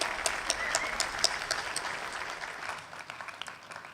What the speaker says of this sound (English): Let's give him a huge round of applause for that.